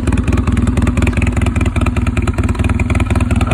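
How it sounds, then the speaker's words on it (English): A Polaris Sportsman 600 quad with a newly finished exhaust idles close by, its engine putting out a loud, even, rapid thumping pulse with a slight clattery edge, steady and alone. "Finished up the exhaust of my wife's quad here. Polaris Sportsman 600."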